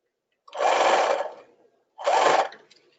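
Two short bursts from a sewing machine stitching tulle for a tutu, each about a second long with a quiet pause between, close and fairly loud.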